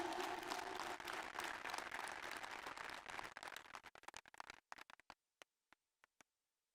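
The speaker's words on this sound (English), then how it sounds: "I think we all need to give him a tremendous applause" Audience applause at a university convocation, a full burst of crowd clapping that thins out after about three seconds into sparse, isolated claps before stopping.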